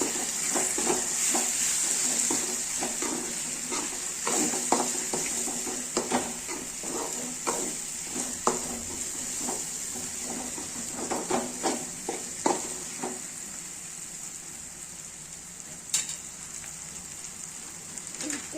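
Egg bhurji frying in a pan, stirred with a utensil in repeated scraping strokes over a steady sizzle, with rhythmic clicks that thin out toward the end and no talking.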